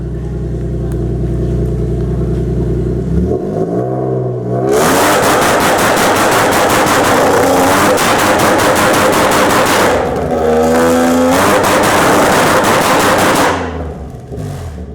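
Car engine held on a two-step launch control limiter at a car meet, loud rapid popping and crackling bursts alternating with rising revs, repeated several times close by.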